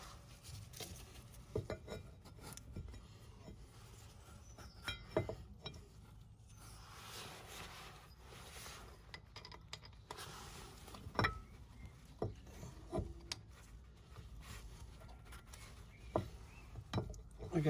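Scattered metallic clinks, taps and knocks as a brake caliper carrier is fitted on a 2006 Iveco Daily van, irregular and fairly close over a low background hiss, with no talking.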